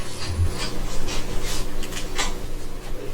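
Wood turning on a lathe during a woodturning club demonstration of a four-legged pet bowl, a steady rasping, rubbing scrape of the tool against the spinning workpiece, continuous and close with no voices.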